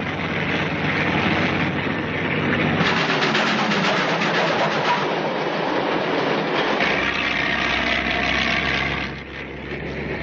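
A 1930s steam locomotive and its train roll along loudly and continuously, a dense rumble and rattle with clattering wheels, steady from start to finish without voices.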